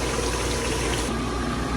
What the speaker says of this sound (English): Can add a little bit water.